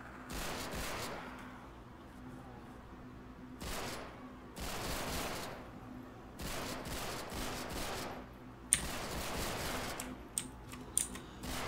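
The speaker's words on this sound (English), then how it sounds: "A loud gun." Loud gunfire in a Call of Duty game mod comes in several rapid bursts with short pauses between them, each a crackling volley, along with a few sharp single cracks near the end.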